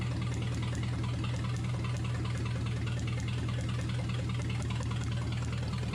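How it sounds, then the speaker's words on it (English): A car engine with a serious misfire and its number 8 spark plug wire pulled off idles roughly, giving a steady, close, low rumble with an uneven loping pulse and heavy vibration throughout. "you can see how rough the motor is running right there"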